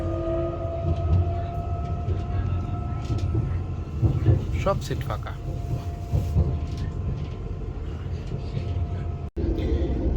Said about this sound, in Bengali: এই যে মোটামুটি প্ল্যাটফর্ম থেকে বের হচ্ছে ট্রেন আস্তে আস্তে স্পিড বাড়তেছে